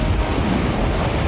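Waves and churning surf beat against a bounding yacht and shoreline rocks, a steady loud wash of water with heavy wind rumble on the microphone throughout.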